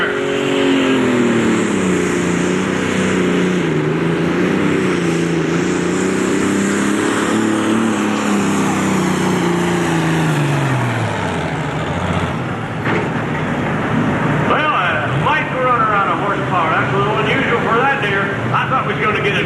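A John Deere 10,000-pound pro stock pulling tractor roars at the 1992 Ohio State Fair, its loud engine note holding steady and then dropping in pitch, with an announcer talking over it.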